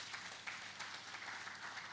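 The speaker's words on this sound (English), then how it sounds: "A round of applause, please." Applause from the audience at a national environmental society conference in Nigeria, a soft, steady, distant patter of many hands without a break.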